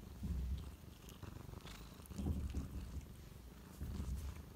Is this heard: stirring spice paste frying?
no